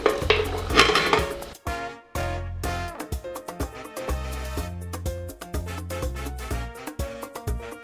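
Vegetables dropped into broth in a cooking pot, a run of clattering pot and utensil knocks at the start, followed by rhythmic pan clanks under steady background music.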